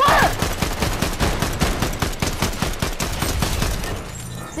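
Rapid gunfire in the game Fortnite, a long run of close, loud shots in quick regular bursts, with no talking over it.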